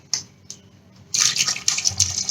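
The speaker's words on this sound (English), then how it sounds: "pour water." Water is poured over jamun fruit with a teaspoon of rock salt for soaking, a few brief splashes first, then a steady, close splashing stream that continues to the end, with no voices.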